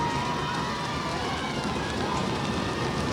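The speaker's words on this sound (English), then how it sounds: "East Brunswick crowd getting their feet going," High school girls' soccer state final crowd stamping their feet and making noise in the stands, a continuous dense rumbling roar with constant hammering, loud and unbroken throughout.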